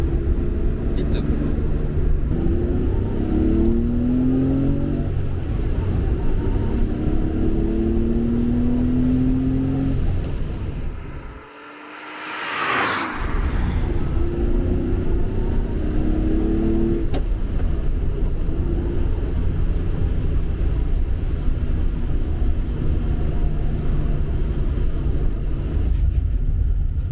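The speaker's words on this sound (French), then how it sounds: "La montée en régime est super agréable." An older Porsche 911 E engine runs and revs in rising surges, fades briefly as if passing a gap, then returns to a steady loud rumble.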